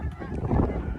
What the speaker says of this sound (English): I think he scared the birds.